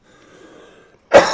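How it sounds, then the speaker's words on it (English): A man coughs once, sharp and close, breaking a quiet moment of faint background sound. "He says, coughing again."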